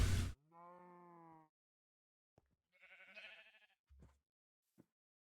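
Two short, clean sheep bleats in a video game with a synthetic quality, separated by a quiet gap and a few faint clicks.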